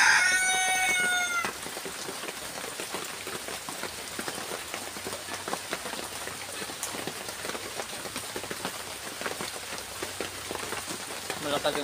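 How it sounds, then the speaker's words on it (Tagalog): Steady, dense hiss of rain falling throughout, with a rooster crowing briefly at the start before the downpour carries on alone. "Malakas yung ulan pero dumaan lang."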